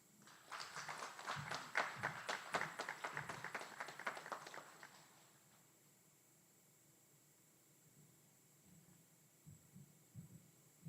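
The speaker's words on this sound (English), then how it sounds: "Please join me in a round of applause." Military training graduation ceremony audience applauding: a dense burst of clapping hands for about five seconds in a large hall, then fading into quiet room tone with a few scattered late claps.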